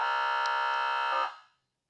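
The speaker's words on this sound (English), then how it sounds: "Regular air horn." A single loud, steady air horn tone from an ambulance siren system holds its harsh buzzing tone for over a second, then cuts off and fades quickly to silence.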